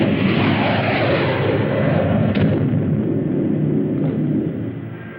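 An artillery cannon firing in a film gives a loud, rumbling boom that fills the whole clip, with a long roaring decay and a couple of faint later thumps, and no voices over it.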